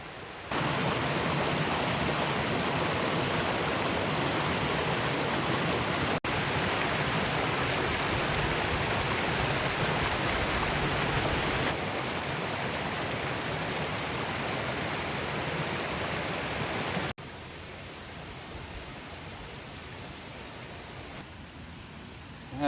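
A waterfall and stream at Sand Run Falls in Tioga State Forest produce a loud steady roar of rushing water up close. The level drops slightly partway through and again near the end, with no talk.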